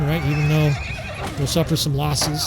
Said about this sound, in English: And you can hear the horses behind me neighing because they're getting stood up by those pikes.